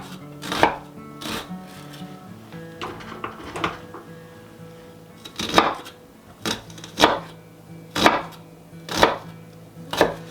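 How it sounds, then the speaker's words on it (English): A knife dices an onion on a cutting board for cheddar broccoli soup, with about ten sharp, uneven chops spread over several seconds. The chops are close and distinct, and no one talks. "while I'm dicing up this onion"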